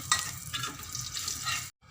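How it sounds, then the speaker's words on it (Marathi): Turmeric goes into half a spoon of hot oil with cumin and curry leaves on low gas in a cooker for moong dal khichdi, giving a soft, close sizzle with a brief spike at the start, then a sudden cut to silence. "हळद टाकायची अर्ध्या चमच्या तेलामध्ये"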